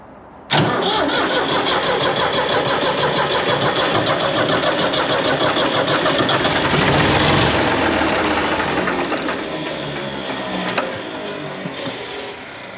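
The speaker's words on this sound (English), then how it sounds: "It always makes me chuckle how long these starter motors take to slow back down" A Ford engine's starter motor whirs loudly and abruptly, then the engine catches into a dense, steady running roar that eases slightly toward the end, with no talking.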